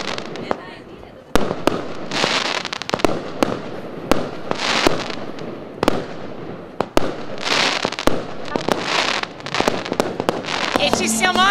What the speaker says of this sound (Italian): Ci siamo anche goduti i meravigliosi fuochi d'artificio.